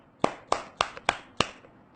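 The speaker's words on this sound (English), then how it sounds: "Give him a big applause." A few hands in a classroom clap for a student, five sharp, evenly spaced claps about a quarter-second apart, close and distinct against a quiet room.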